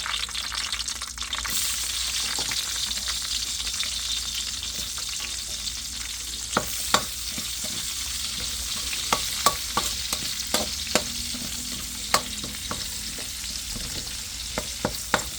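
Onions and garlic frying in a pan, heard as a steady, close hiss of sizzling oil, with scattered sharp taps and scrapes of a utensil stirring against the pan, and no talking.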